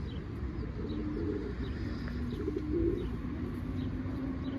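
Domestic pigeons flown for training give soft, low cooing over a steady outdoor wash, with faint chirps and no talk, at a moderate, even level throughout.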